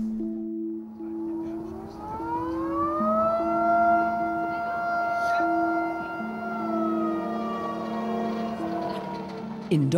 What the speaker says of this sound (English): In Dawson, the firehouse siren rings out to announce the arrival of the first competitor.